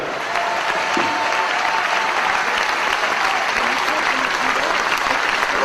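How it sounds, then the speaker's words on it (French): Steady applause from a large audience at a political rally in Bazas, France, a dense wash of clapping that holds evenly throughout. "Merci d'applaudir Jean Lassalle."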